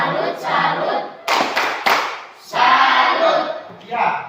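A school classroom group performs a tepuk salut rhythmic clap, several short bursts of hands clapping together in quick succession between spans of loud voices chanting and talking.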